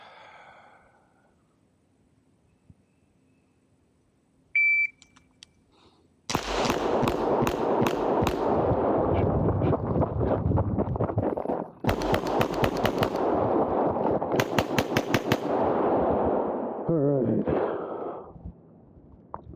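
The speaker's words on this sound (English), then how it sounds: "We're gonna actually shoot the right amount of rounds this time." Gunshots from a Bill Drill pistol run on a shooting range, a string of loud sharp reports fired in quick rapid bursts across several seconds, with a brief pause partway through, close and dominant over the background.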